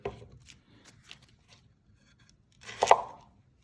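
A knife cuts up a large shallot on a board, with a few faint scattered taps early on and then a louder, scraping burst of cutting near the end, fairly close.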